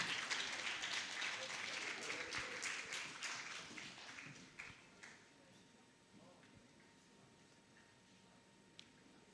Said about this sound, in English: A big, big round of applause, everybody.